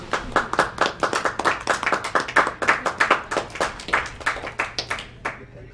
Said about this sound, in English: A round of applause and pats on the back for Tech and AV crews